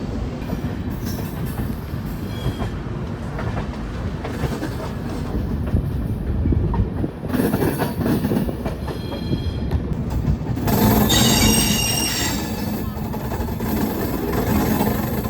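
12333 Vibhuti Express train taking a curve before Deen Dayal station, with a continuous heavy rumble and wheel clatter, and a brighter hissing screech building toward the end.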